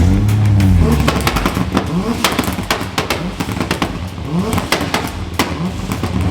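A Toyota JZX90's engine revs loud and close, with rapid crackling pops and bangs and flames from the exhaust as it rises and falls.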